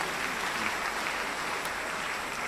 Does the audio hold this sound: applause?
yes